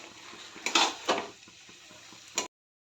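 Maggi noodles stirred in a pan with a utensil: a few soft scrapes and three sharper clanks against the metal, close by, with no talking.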